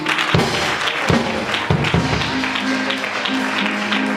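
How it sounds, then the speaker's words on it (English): Church congregation claps for the choir during a Sunday service, a dense, fairly close wash of hand claps with a few heavier thumps and some voices mixed in. "Let's clap our hand for the choir once again."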